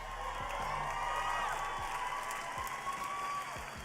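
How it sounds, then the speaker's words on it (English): A full stadium crowd at Dodger Stadium on a Friday night applauds and cheers, a distant wash of clapping and voices behind steady background noise. "What a full crowd you got there."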